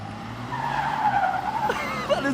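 A 2500 turbo diesel truck drifting, tires skidding in a loud, sustained squeal with a rising and falling pitch and engine rumble beneath, brief voices in the background.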